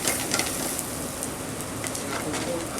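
Vegetables sautéing in a hot pan in a restaurant kitchen ahead of adding shallots, giving a steady, close, broadband sizzle that holds evenly throughout with faint clatter.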